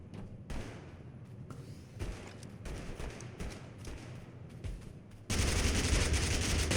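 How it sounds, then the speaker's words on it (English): A minigun fires in the battle-royale game Totally Accurate Battlegrounds, with scattered shots and thumps at first, then a sudden dense roar of continuous rapid fire that runs to the end. "Oh, that's a minigun."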